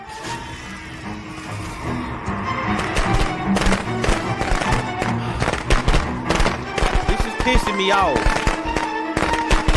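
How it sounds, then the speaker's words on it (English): Rapid crackling pops of firecrackers going off in a video game, a dense, loud string of sharp bursts lasting several seconds, with someone talking over it. "Gonna fucking die as soon as the firecracker is done popping"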